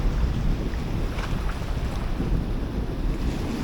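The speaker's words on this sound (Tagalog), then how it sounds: "Delikado yung alon eh," Strong sea waves break on a rocky shore in a steady low roar, with heavy wind buffeting the microphone throughout.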